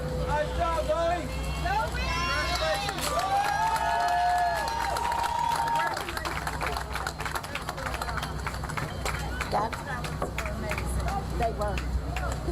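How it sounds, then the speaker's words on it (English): Parade crowd at Milwaukee's 2024 Juneteenth celebration breaks into sustained applause and cheering, loud and continuous throughout with a steady hubbub of voices underneath. "They deserve another round of applause, and a loud one."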